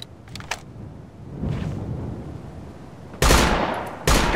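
Gunfire in the video game Operation Flashpoint: Dragon Rising: a few distant pops, then two loud, close bursts of shots with hard onsets, and no voices.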